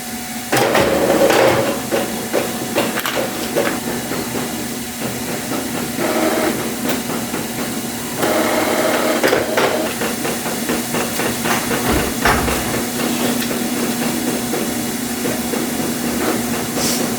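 A printer runs with continuous mechanical whirring and hissing and rapid clicking and knocking, steady throughout, loud and close, with no voices.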